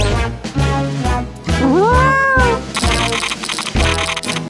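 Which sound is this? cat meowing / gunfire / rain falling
cat meowing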